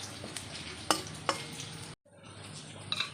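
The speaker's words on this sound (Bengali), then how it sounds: "এখন ডালটা এখন ফোড়ন দিচ্ছি আমি পেঁয়াজ আর শুকনো লঙ্কা দিয়ে" Dal tempering with onion and dried red chilli in a home kitchen: a low sizzle with a few sharp utensil clicks, a brief dropout, then a quieter sizzle resuming.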